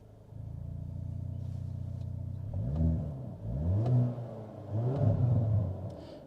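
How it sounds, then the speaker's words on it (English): A 2023 Hyundai Kona N subcompact SUV engine idles with a steady low rumble, then revs up sharply three times in quick succession, each rise loud and close, with faint exhaust crackles between the revs. "It does actually have some nice exhaust crackles, so we can change the exhaust note."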